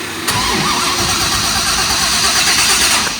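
A quad-turbo 6-litre LS V8 with methanol injection in a VL wagon cranks and catches, then settles into a loud, steady rumbling idle close to the listener.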